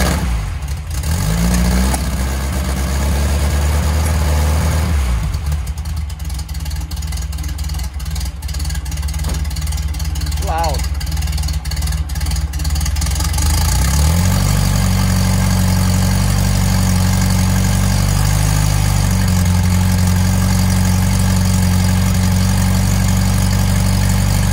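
An air-cooled VW Beetle engine fitted with an aftermarket MAF Porsche-style 37mm stainless exhaust runs loudly up close, idling with a deep steady drone, dipping briefly midway and then revving up to a heavier, fuller roar.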